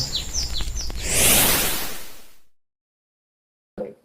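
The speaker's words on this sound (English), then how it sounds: "Sometimes I hear the same birds singing from past weeks," Bright chirping bird calls ring out over a rushing whoosh of noise that swells, then cuts to silence before a brief final burst.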